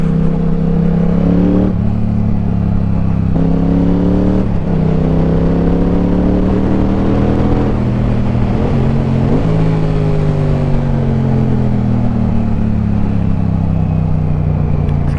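A Yamaha R7 sport motorcycle fitted with a Leo Vince full exhaust system revs loudly and up close, its engine pitch rising and falling through several throttle blips over a continuous rumble.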